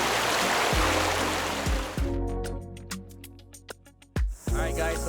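Water rushes steadily from a stream and waterfall at Dickey Flat in New Zealand, then the roar thins out under scattered thumps and handling knocks near the microphone.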